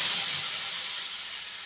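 Spice paste tipped into hot oil already tempered with a little cinnamon, for Mughlai cauliflower, gives off a loud, steady hiss of sizzling that fades slightly as it settles.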